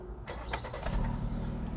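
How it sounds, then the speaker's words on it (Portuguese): A Jeep Compass Limited 2.0 is started with its push button: a short starter whir quickly catches into a steady, close engine idle. No one speaks. "agora o Compass já está em funcionamento"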